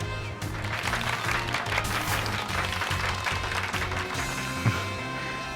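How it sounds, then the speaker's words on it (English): Audience applause for a performer dressed as Pikachu, a steady, fairly loud wash of clapping across the whole stretch with a low rhythmic thump underneath and no talking. "Give Pikachu a round of applause"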